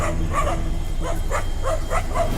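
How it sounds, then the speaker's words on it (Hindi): Several dogs barking at lions on a city street at night, a rapid series of repeated barks and yips over steady street noise. "शहर में अनजान मेहमानों को देखकर रात के पहरेदार यानी कुत्ते भी शेरों पर भौंकने लगे।"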